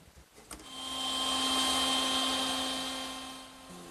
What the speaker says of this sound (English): And I'll do that over at the router table.